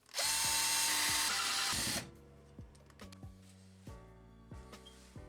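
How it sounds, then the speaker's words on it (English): A power drill bores a marked hole while a homemade heater is built: a loud, steady whir for about two seconds, then it stops and is followed by a series of short clicks and taps. "And after that, we drill."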